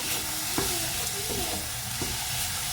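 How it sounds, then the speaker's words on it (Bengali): Coconut filling for steamed palm-fruit pitha stirred and cooked in a pan, giving a steady close sizzle and soft frying hiss with a few light scraping strokes of the spoon, no talking. "এইভাবে নারকেলের পুরটা বানিয়ে নেব"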